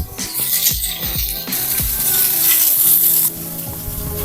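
Egg masala frying hard in a pan, a loud continuous sizzle with bursts of crackle and a few clinks of a utensil, close up and with no talk over it.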